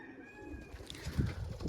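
Young pigeons near a loft, low soft cooing and a few fluttery bursts of movement close to the microphone, with a faint thin whistle tone fading early on.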